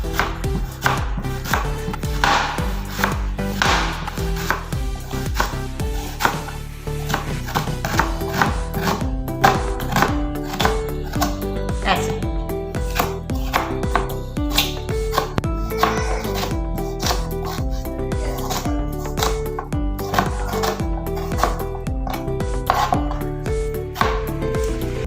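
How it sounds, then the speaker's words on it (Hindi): A knife chops onion into slices on a board, sharp rapid strikes in a steady rhythm with short pauses, close and crisp, continuing throughout with no voices. "इसकी कटिंग मैं कुछ इस तरह करूंगी"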